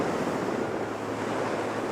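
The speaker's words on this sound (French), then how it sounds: "On n'entend que les vagues là." Ocean surf rolls in as a steady, loud wash of breaking waves, with wind buffeting the microphone throughout and no voices.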